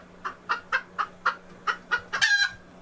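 A silver laced Wyandotte hen clucks in a steady series of about nine short, evenly spaced calls, ending in a louder drawn-out squawk, close and clear.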